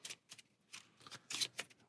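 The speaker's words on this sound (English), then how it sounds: "give them a shuffle." A deck of crew cards for the board game Tiny Epic Pirates gets shuffled, giving faint quick papery bursts of flicking cards in short uneven clusters close by.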